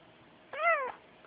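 A single cat meows once, a short clear rising-and-falling call close by against a quiet background.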